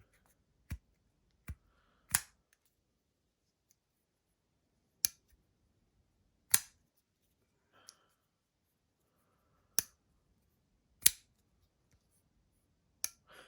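Giantmouse Ace Riv folding knife being opened and closed, giving about ten crisp, sharp clicks and snaps at irregular intervals, close and isolated in an otherwise quiet room.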